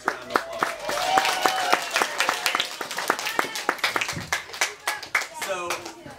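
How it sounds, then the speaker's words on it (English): Kids at a bookstore event clap for their parents, a loose scatter of individual hand claps and applause with sharp separate slaps, tapering into sparser claps toward the end while voices murmur underneath. "Kids, give your parents a round of applause."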